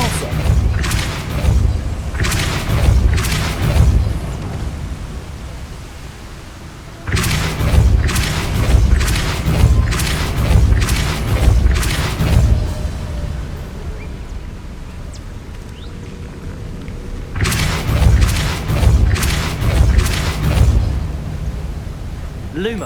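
Depulso force spell blasts from Hogwarts Legacy come as heavy booming thumps in dense repeated clusters, loud and close, separated by quieter rumbling stretches, with some voice underneath.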